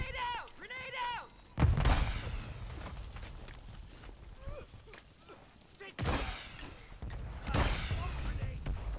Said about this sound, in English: Grenade out! Grenade out!